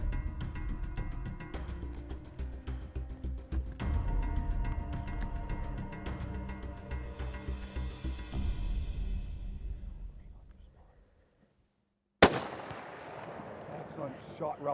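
A single hunting rifle shot at a bear from a boat in British Columbia, one sharp crack after a stretch of engine rumble and a brief silence, followed by a short echoing tail.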